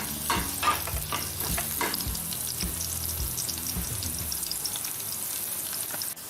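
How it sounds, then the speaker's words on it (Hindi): Three garlic cloves frying in hot oil, with a green chili added, giving a steady close sizzle with light crackle and a few stirring clinks, fading slightly toward the end. "अब इनको गोल्डन ब्राउन होने तक फ्राई करेंगे।"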